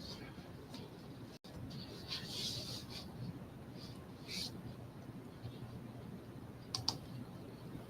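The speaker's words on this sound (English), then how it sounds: "I'm just kind of clicking some of the comments as they come up" Computer mouse and keyboard clicks while reading comments during a homestead livestream, faint scattered taps over a quiet background hiss.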